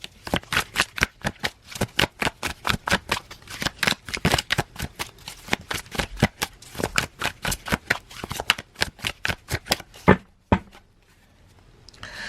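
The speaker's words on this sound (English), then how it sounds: "I'm going to shuffle up a real quick." Rapid, crisp riffling of a tarot deck being shuffled over and over in quick bursts, close to the microphone, ending with a brief pause.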